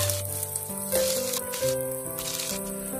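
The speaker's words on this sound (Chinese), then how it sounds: "锅中加入食用油，油热后倒入葱姜蒜以及准备好的香料，用小火煸炒一下" Scallion, ginger, garlic and spices are stir-fried in hot cooking oil over low heat in a wok, giving a close, continuous sizzle with rattling bursts as the pan is moved, and no talking.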